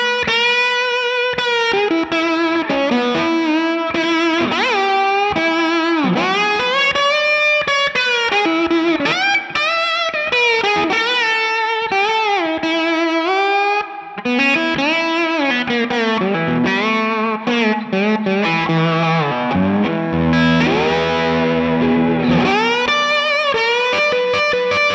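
Slide guitar solo on an electric guitar through the bridge humbucking pickup, with a driven, effected tone; continuous gliding melodic lines sustain loudly for the whole stretch with no talking.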